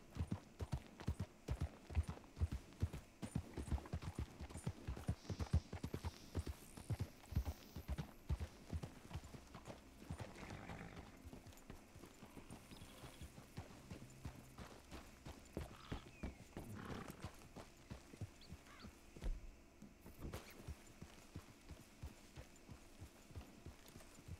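Rapid hoofbeats of a horse in the video game Red Dead Redemption 2 clip-clop in a steady galloping rhythm, strong at first and then lighter and more scattered, with faint background noise.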